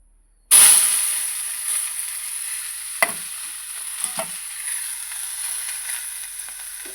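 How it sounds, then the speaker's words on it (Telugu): Oil sizzling hard in a cooking pan, bursting in loudly at once and then settling into a steady close hiss with a few sharp crackling pops. "అదిగో నూనె వేగుతుంది కదా"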